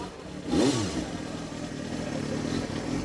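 A 1991 Honda CBR250RR motorcycle engine idles steadily and close by, with a brief rev or blip early on before it settles back to a smooth, even idle.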